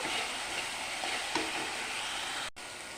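Spices with turmeric powder are sautéed for a mutton curry, giving a soft, even sizzle with light stirring scrapes, fairly quiet and close, with a brief dropout near the end.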